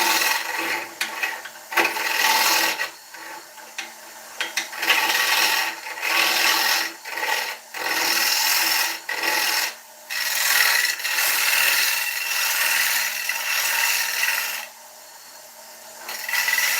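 Sandpaper rubs against an oak bowl spinning on a wood lathe, a steady raspy scratching in repeated passes with short pauses between strokes, loud and close with no talking.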